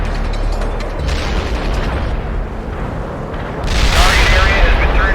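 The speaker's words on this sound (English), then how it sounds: "Artillery barrage inbound." Artillery barrage explosions from the video game World in Conflict, a dense rumbling roar of blasts that swells sharply louder partway through, with voices talking over it.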